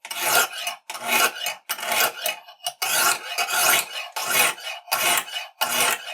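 A knife blade sweeping across a Lansky sharpening system stone in eight repeated rasping strokes, each a short gritty scrape separated by brief pauses, close and clear with no voices.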